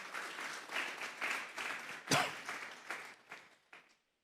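A church congregation claps for the Lord during a Spanish-language sermon, a moderate crowd of hands swelling in uneven waves, with one sharp louder clap near the middle before thinning out and stopping.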